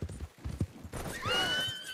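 A horse in the video game Red Dead Online gives a few quick hoof clops, then a short, bright whinny that rises and trails off, fairly faint.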